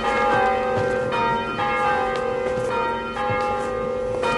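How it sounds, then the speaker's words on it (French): Church bells peal in a repeating pattern of loud, ringing strikes whose tones overlap and hum on between blows, clear and fairly close with no speech. "Elle sonne les cloches, paraît-il."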